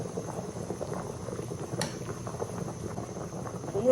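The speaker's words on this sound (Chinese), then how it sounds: "开火，先把它煮开。" Chicken heating in water with cooking wine in a small pressure pot, a steady low bubbling and burbling of liquid coming to a boil, continuous and close, with a faint background hum.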